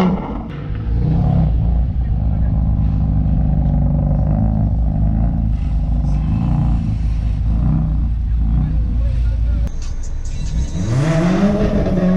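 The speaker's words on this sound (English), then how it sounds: "give it some revs for me" A Ferrari engine, either a 1980 308 GTB or an 812 GTS with a 6.5-litre V12, drones steadily at a loud, close level and then rises into a rev near the end, with voices underneath.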